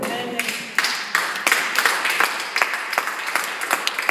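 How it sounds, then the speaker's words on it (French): A church congregation applauds during a service, with sharp uneven claps that come in bursts and grow denser toward the end. "On acclame la parole du Seigneur."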